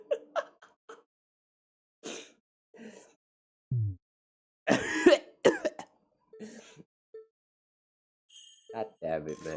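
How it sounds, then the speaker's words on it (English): Throat-clearing and coughing sounds from the Get In Santa's Pants 3 video game come in short scattered bursts against silence, with brief vocal noises mixed in between. "That coughing sounds get me all the time."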